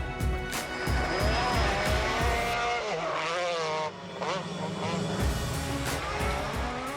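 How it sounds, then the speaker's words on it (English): Audi Quattro Group B rally car driving hard, a loud turbocharged engine rising and falling through gear changes with tire noise, heard close under a narrator's voice. "The awesome Audi Quattro."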